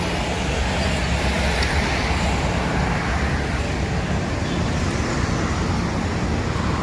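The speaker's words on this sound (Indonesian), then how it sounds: "Lalu lintas terpantau di pagi hari ini lancar." Morning road traffic in Palembang, a dense, continuous roar of passing vehicles at an even, loud level, with no gaps and no talk.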